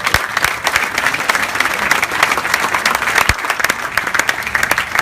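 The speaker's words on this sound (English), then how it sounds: "let's give him a big round of applause" A room dedication audience at a university applauds, dense clapping with distinct sharp individual claps standing out, loud and close, steady throughout with a few louder hand strikes.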